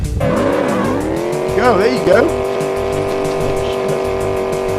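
Car engine in a video game revving high and steady, with tires squealing in wavering, swooping bursts near the start and in the middle, loud and close while a voice briefly speaks over it.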